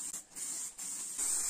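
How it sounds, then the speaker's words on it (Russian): An aerosol degreaser can sprays in short, close hissing bursts: a brief puff, a small gap, then a steadier, louder jet to the end. "Использую я обезжиритель из баллончика,"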